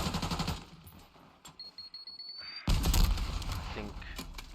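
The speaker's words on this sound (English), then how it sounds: "I think Legend got a few good shots on him" Automatic and single gunfire bursts in a competitive team shooter match semi-final, loud and repeated at the start and end with a quieter stretch between, under commentary.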